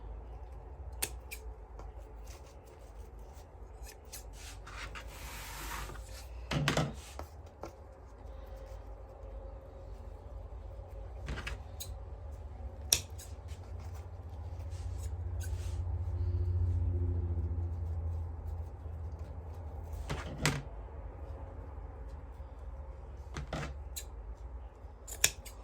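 Scissors make occasional crisp snips while trimming decorations on a handmade fall wreath. The cuts are sparse and close, with a low rumble in the background and a swelling hum near the middle.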